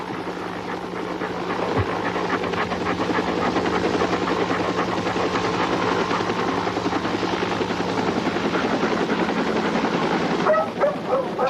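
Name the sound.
police dog barking at a garage door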